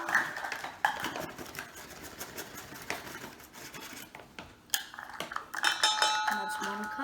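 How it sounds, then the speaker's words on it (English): Measuring spoon scraping and clinking while scooping all-purpose flour for chocolate muffins, a run of soft close taps and scrapes with brighter metallic clinks near the end. "I'm going to use the measuring spoon"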